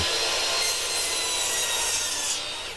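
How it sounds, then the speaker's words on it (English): A chop saw rips through wood, cutting it to length for a model railway layout, in one continuous, loud, close-up cut, a bright, harsh whine and rasp that eases off at the end. "chop saw here, cutting everything to length"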